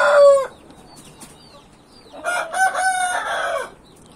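A handsome rooster crows loudly and close by, one short call followed by a longer full cock-a-doodle-doo, with a few quiet clucks in between and no talking.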